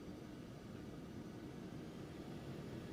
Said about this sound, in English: Using a lot of power to get the aeroplane going.